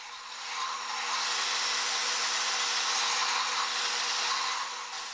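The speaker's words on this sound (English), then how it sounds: "You want to keep it moving against the belt sander at all times to prevent any flat spots from forming." A belt sander shapes the wooden ball head of a war club, giving a steady, loud whirring grind that holds evenly for about five seconds with no talk over it.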